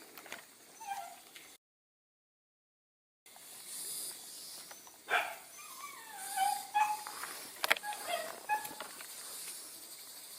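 Dogs whine and yelp in short bursts, moderately close, with a brief gap of silence early on and scattered rustling noises.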